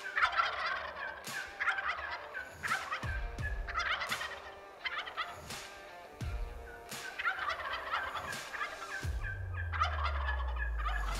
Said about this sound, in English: The gobbles of roosted birds confirms that they're close by